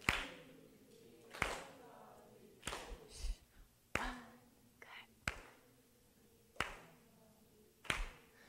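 Single pair of hands clapping a compound-meter rhythm during a musicianship lesson: sharp, close claps at uneven intervals, with quiet spoken counting and whispering between them.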